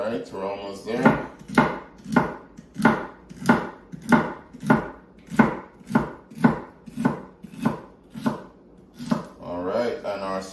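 Knife chopping celery sticks on a cutting board, a steady run of about fifteen evenly spaced sharp chops, close and fairly loud, with brief speech at the start and end.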